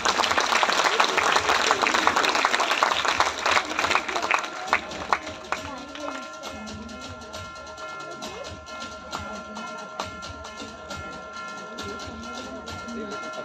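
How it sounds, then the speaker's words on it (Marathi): Loud audience applause fills the first few seconds, then thins out as a steady tonal sound and talking take over. "एकदा जोरदार टाळ्या होऊ द्या."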